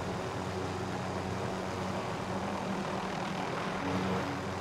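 A recon aircraft passes over in Call of Duty Warzone (Cold War era), heard as a steady, moderately loud propeller-engine drone that holds even throughout and swells slightly near the end.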